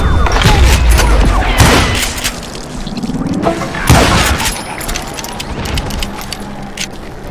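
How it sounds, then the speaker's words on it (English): Loud sustained Gatling gun fire in the video game Call of Juarez, a rapid rattling fusillade with heavy booms and shattering impacts, dense and continuous over several seconds. "Kid Curry opened up on me with a goddamn Gatling gun"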